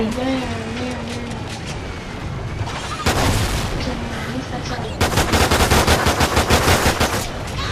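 Rapid video game gunfire rattles loudly and continuously in a survival extinction mode, with automatic bursts growing denser toward the end, while a player talks over the shooting.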